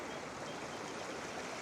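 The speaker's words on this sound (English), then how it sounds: "little creek crossing" A small creek rushes and babbles in a steady, close wash of flowing water at a crossing on a woodland walk, with no voices.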